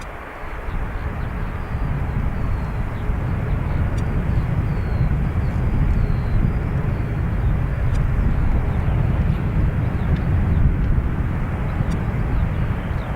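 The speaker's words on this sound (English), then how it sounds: "The newest Ryanair on the way out, IJO." A Ryanair airliner departs Dublin Airport, a loud, close, continuous jet roar filling the whole stretch with a broad rumbling low end and steady intensity.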